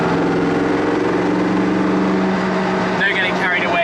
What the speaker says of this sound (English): this car's been upgraded to the CCR engine, and it makes a lot of noise